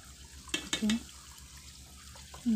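Running tap water splashes over cauliflower being washed in a sink, with a few short bursts of spattering and clatter, faint in between, and a louder gush near the end.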